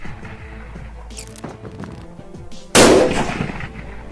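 A single loud, close Kar98k bolt-action sniper rifle shot cracks out at a long-range shooting range and rings with a lingering decay. Quieter background rumble comes before it.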